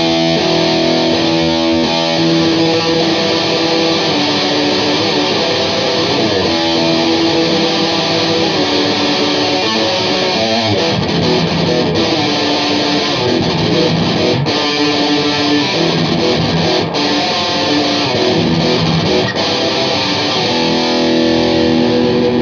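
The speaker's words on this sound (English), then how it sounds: "Even a harder distortion pedal." Electric guitar played through a harsh, heavy distortion pedal into an old Marshall JTM30 amp, a loud, dense, saturated wall of sustained chords and notes with no reverb, running continuously with no talking.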